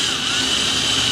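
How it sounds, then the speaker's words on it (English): A small, sharp drill bores a center hole in a Toyota Liteace camper van, a steady high whining buzz that runs loud and unbroken for the whole moment. "Now we're going to get a nice sharp but small drill and get our center hole drilled"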